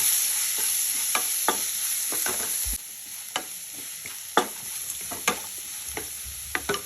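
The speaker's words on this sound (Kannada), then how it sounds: "ನಾನು ಈರುಳ್ಳಿಯನ್ನು ಹಾಕ್ತಾಯಿದ್ದೀನಿ ಹೆಚ್ಚಿಟ್ಟರೆ ಈರುಳ್ಳಿ ಹಸಿಮೆಣಸಿನ್ಕಾಯಿ ಎರಡನ್ನೂ ಹಾಕ್ತಾಯಿದ್ದೀನಿ ಚೆನ್ನಾಗಿ ಕುಟ್ಕೊಳ್ಳೋಣ" Chopped onions and green chillies frying in a pan, a constant sizzle with frequent sharp scraping and clinking strokes of a spoon stirring, close and clear.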